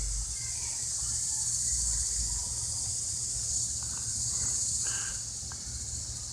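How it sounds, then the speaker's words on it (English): Cicadas drone in a backyard as a steady, continuous high-pitched buzz that persists at a moderate level throughout, with a low hum beneath it. "Hear those cicadas? I ain't heard them in a long time."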